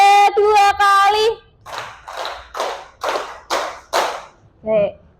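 A classroom group claps in a rhythmic pattern of three claps done twice, with sharp bursts of claps in groups and voices chanting briefly at the start and end.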